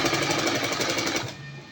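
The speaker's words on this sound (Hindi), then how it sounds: "हम इसी निशान पर सिलाई लगाएंगे इस तरह" A sewing machine stitches fabric along a marked line in a fast, even mechanical rattle, close and moderately loud, then stops abruptly near the end.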